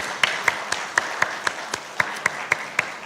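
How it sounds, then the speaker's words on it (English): Sharp, evenly spaced hand claps ring out at a steady quick beat at the FICCI FRAMES 2024 inaugural session in a hall, sounding like a few people clapping rather than a full crowd. "So a huge round of applause to all these films."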